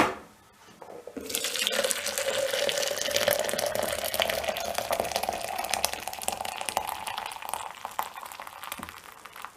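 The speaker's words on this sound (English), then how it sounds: "pour the boiling water" Boiling water pours from a kettle into a tin can for home brewing, a steady splashing, rising-pitch fill that begins after a short quiet moment and runs continuously, close by.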